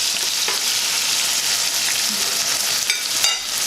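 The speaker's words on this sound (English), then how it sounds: "We're just gonna make that fry up for a little bit." Jamaican ackee and saltfish fry in a pan with a loud, steady sizzle and crackle, with occasional scrapes of stirring close by and no voices.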